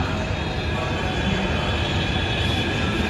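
A metro train arriving at a station rumbles steadily close by, a loud continuous roar of wheels and motor with faint metallic squeal on top.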